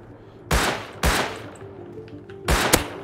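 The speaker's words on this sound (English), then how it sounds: "You take some shots with it now." Three loud, sharp gunshots from the survival game Rust, spaced apart over a low hum, the last one followed by a brief echoing crack.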